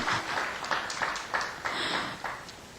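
Applause from a church audience in Korea, a steady wash of many hands clapping at moderate loudness with slight swells, no voices over it.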